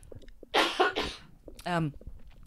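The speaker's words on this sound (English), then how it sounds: "Excuse me, I have to cough." A couple of sharp, close coughs, followed by a short throat-clearing sound, with no talking.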